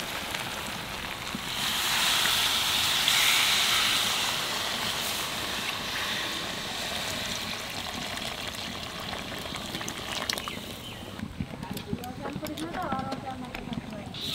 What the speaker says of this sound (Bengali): এইবার গরম জল দিয়ে দেবো, তোমরাও গরম জল দেবা।